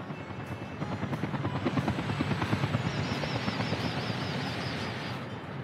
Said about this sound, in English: Our fire helicopter did its trick straight away.